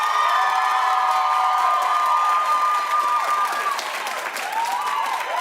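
A talk show studio crowd applauds for Beyonce, loud continuous clapping mixed with whoops and cheering, sustained evenly from start to finish.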